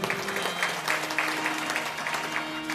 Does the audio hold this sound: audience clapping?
yes